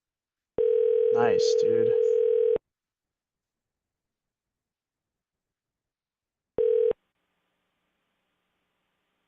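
A telephone line gives two bursts of steady electronic tone, a long one and then a short one after a pause. Someone speaks briefly over the first tone, and silence surrounds both.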